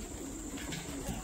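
Pigeons coo on a farm, giving low, soft murmuring calls amid a steady background hum.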